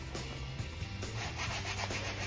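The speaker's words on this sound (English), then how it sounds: "So I'm sanding down the masonite so it will accept the primer" Close, rhythmic scratchy rubbing of sandpaper across a masonite board, repeated back-and-forth strokes with a slight hiss.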